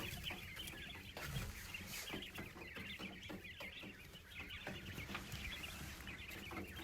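Homestead meat chickens, including a more yellowish bird, cluck steadily under a heat plate, with soft overlapping calls close by over a continuous low hum.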